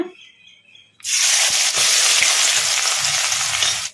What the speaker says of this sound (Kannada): ಈಗ ಕಲಿಸ್ಕೊಂಬಿಡೋಣ ಉಳ್ಳಾಗಡ್ಡಿನ ಲೈಟ್ ಬ್ರೌನ್ ಕಲರ್ ಬರೋವರೆಗೂ ಫ್ರೈ ಮಾಡ್ಕೊಂಬಿಡೋಣ